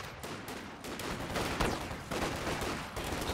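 Gunfire in a competitive match of a squad-based strategy video game, with repeated dense bursts and overlapping volleys forming a continuous rattling fusillade, loud and close, no talk.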